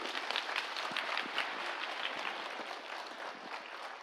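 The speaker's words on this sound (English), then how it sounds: "Let us give a big clap for our artists who have performed today." A meditation festival audience inside a pyramid claps for the musicians who performed, a steady, moderately distant wash of many hands that holds throughout without voices over it.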